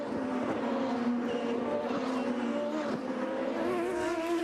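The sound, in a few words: Champ Car race cars passing on the front stretch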